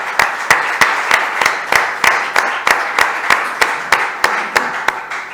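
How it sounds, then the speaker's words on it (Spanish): An audience at a poetry lecture claps for a reader. The claps come as sharp, closely spaced, almost rhythmic bursts over a steady wash of hands, fairly loud and close throughout. "Le vamos a dar un aplauso, ¿no?"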